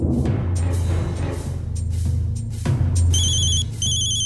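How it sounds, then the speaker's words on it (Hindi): An electronic phone ringtone chirps in short repeated bursts near the end, over a steady low hum and a few clattering noises. "वीर जी का फोन"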